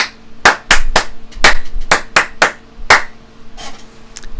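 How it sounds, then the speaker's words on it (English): Single pair of hands clapping a rhythm for a keyboard lesson, sharp close claps in an uneven pattern of about a dozen strikes with short pauses, ending in softer claps. "If you're clapping it, it sounds like this."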